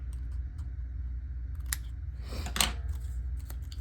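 Scissors snip through paper for a scrapbook page layout, a few quiet crisp cuts with one longer slicing stroke, close and isolated over a low background hum.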